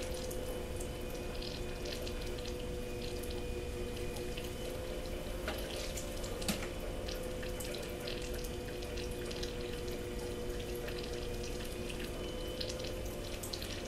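Steady wet swishing and trickling of water on spinning clay on a pottery wheel, a continuous close hiss with a few faint knocks, no talking.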